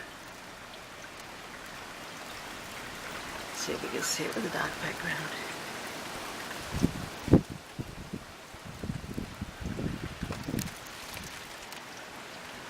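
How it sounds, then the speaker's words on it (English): Steady rain patters in the background while a person talks during a windy nor'easter with snow falling, with a few louder thumps and rustles near the end. "It's pouring rain."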